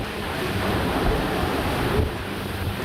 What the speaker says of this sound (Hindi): बालासोर जिले के चांदीपुर ब्लॉक में तूफानी हवाओं के मिजाज को इन तस्वीरों में महसूस कर सकते हैं।